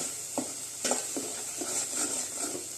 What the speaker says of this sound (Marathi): एक दोन तीन मिनटं लागतात मसाला परतून घ्यायला